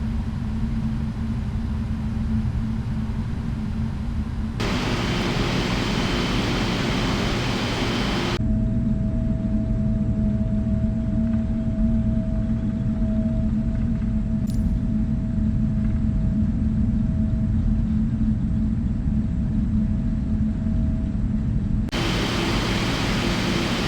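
A Boeing 777F cargo jet taxiing in Microsoft Flight Simulator, a video game: a steady low engine rumble and a broad hiss that lasts the whole stretch, with a faint tone partway through.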